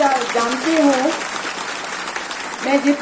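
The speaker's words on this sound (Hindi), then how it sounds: "तो मेरा अनुरोध है कि उनके लिए एक अच्छे से ताली दीजिए" An audience claps at an indigenous faith and culture event. The applause is steady and moderately loud across the whole stretch, and a voice speaks over it at the start and the end.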